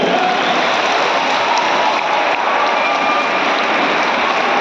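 Loud, dense applause from a large seated crowd at a student environmental assembly during a district festival in Etawah, continuous and even throughout without any talking.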